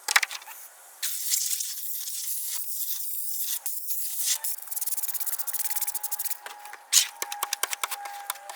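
A rubber squeegee scrapes old, sticky window tint residue off a car window glass, giving repeated close, rasping rubbing strokes in short bursts with brief pauses, with no voices.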